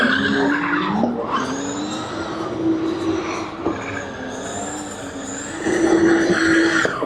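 A convertible does a smoky burnout at a Budapest car show, its tires screeching in a long, loud, wavering squeal over a revving engine, with crowd noise behind.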